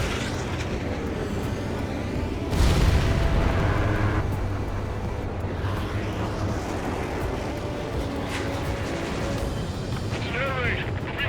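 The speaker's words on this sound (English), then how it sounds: "Missile launched." Missile launch and explosions in the video game Ace Combat 7, with a sudden heavy boom and rumbling blast mid-way amid a dense roar of combat noise, while voices talk over it.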